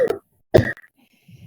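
Two short, sharp coughs come close together from a nearby person, each a brief rough burst separated by a pause, followed by faint quiet.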